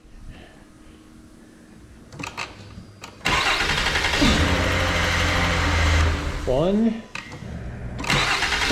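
A 3.0L engine in a 2009 Ford Fusion cranks after a starter replacement, then catches and runs at a loud, steady idle with a brief rev. A man counts aloud beforehand and the engine continues after a short break.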